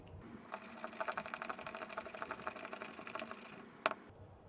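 A coin scratches the latex off a high-value lottery ticket, giving a steady run of quick, close, dry scraping strokes with a sharper tap near the end, quiet and with no talk over it.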